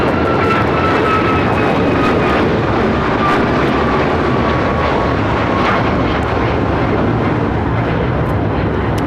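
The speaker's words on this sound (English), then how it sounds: "That is United Airlines 1621 taking off to Orlando, Florida on the 737 MAX 9" A United Airlines Boeing 737 MAX 9 takes off at LAX, its jet engines producing a loud, sustained roar that fills the whole stretch without letup.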